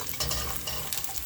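Onions seasoned with salt simmer and sizzle in a pan, the soft frying hiss broken by a few light scraping stirs close by.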